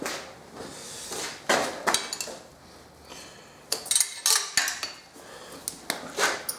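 Metal clinks and knocks sound up close as a spanner tightens bolts by hand on a Toyota Supra engine during a single-turbo build, in irregular bursts of short taps and rattles.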